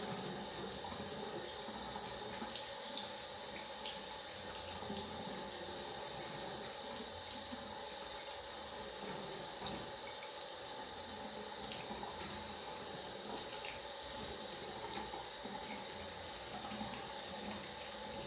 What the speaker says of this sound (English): Takes a little while for the hot water to start coming through.